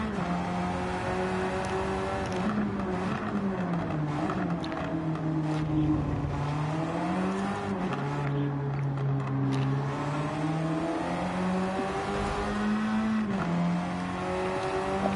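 A race car engine drones steadily in a racing video game, its pitch rising and falling through shifts as the car drives around the track, loud and continuous with no talk.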